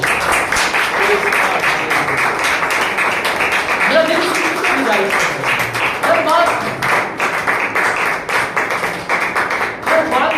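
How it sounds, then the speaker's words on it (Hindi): Congregation clapping loudly during a Palm Sunday worship service, dense rapid claps throughout with a preacher's voice speaking over them. "आइए हम जोरदार ताली बजाएंगे उसके लिए।"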